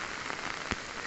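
Steady rain hissing down on a surface, with one slightly louder drop or tap partway through. No voices.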